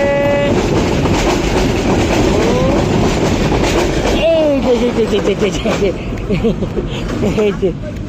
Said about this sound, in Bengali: ট্রেন গেল ট্রেন গেল ট্রেন গেল ট্রেন গেল।